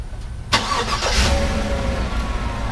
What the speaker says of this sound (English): And that starts your vehicle.